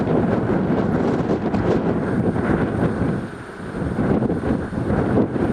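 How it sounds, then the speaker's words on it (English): Strong wind roars and buffets a microphone at coastal cliffs near Castle Cove. The gusts are loud, rumbling and continuous, and briefly ease midway. "Fairly windy here today,"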